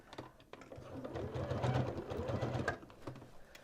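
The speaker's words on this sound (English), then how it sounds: "Now we're going to go to the sewing machine with that." A sewing machine stitches an overlapping lace patch along a garment hem, its steady low motor hum and rapid needle chatter running close and continuous for several seconds with brief pauses at the start and end.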